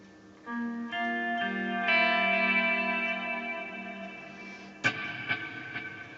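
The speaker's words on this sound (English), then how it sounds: "And that's the echo sound. It's very deep." An electric guitar runs through an Axe FX 2 Pink Floyd preset with deep delay and reverb. A few sustained, shimmering notes ring out and overlap, trailing long echoes, then a sharper plucked attack repeats in fading taps.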